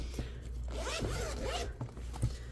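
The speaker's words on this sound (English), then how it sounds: "Smooth zipper, no pocket" A SleeveChief card binder's zipper is pulled along its track in a smooth, continuous rasp lasting about two seconds, close and clear, with a couple of soft handling bumps at the end and no talking.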